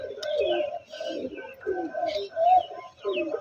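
Pigeons coo from a pigeon box on a rooftop, a close series of soft throaty burbling calls in repeated bouts with short gaps between them.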